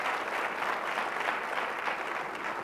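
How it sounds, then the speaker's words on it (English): Audience applause at a 2018 State of the City address, a steady wash of clapping from a large crowd that holds at an even level throughout without any speech. "You can clap for my parents, please."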